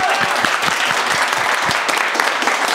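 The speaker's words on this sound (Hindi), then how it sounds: "एक जोरदार ताली कल के सीपीयू के लिए बजाओ भाई" Audience at a mobile repairing institute class in India clapping loudly together, a dense, close burst of applause with distinct individual claps standing out, continuing steadily.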